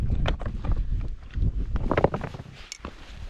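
Wind buffets a microphone on a hazy evening mountain hike between Threlkeld and Dunmail Raise in the Lake District, gusty rumbling roar throughout with scattered crunching footsteps, close and continuous.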